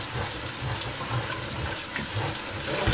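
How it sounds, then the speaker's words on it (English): Cold tap water gushes steadily over freshly boiled, drained green beans in a kitchen sink, a continuous close splashing rush with no talk. "put some cold water on them to stop the cooking process."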